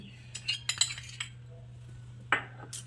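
A spoon taps and clinks against a mixing bowl while sugar goes into flour, several light metallic chinks in an irregular cluster, then a pause and a couple more, over a low steady hum.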